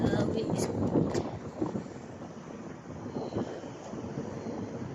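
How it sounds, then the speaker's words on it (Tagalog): Wind blows at a seaside beach, buffeting the microphone with a loud, rumbling roar that swells and eases over a few seconds. "It's windy today. The sun's still hot, but it's so windy."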